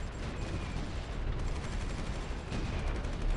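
Dense, continuous battlefield gunfire and artillery rumble from the strategy video game Supreme Ruler 2020, a steady roar of overlapping shots with no talking.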